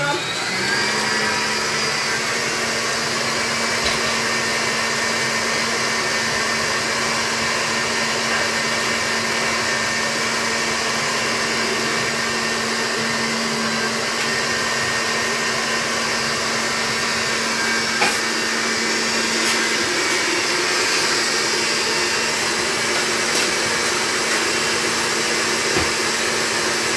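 A steady electric mixer whirs continuously while creaming butter and sugar for chocolate cupcakes, a constant motor drone at even loudness with no pauses throughout.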